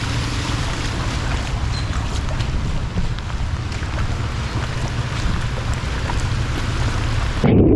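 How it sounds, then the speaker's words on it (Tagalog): Heavy monsoon rain during an enhanced habagat in Cabangan falls as a dense, steady rush of noise, with low wind rumble underneath and a brief louder thump at the end. "medyo malakas na ulit yung ulan"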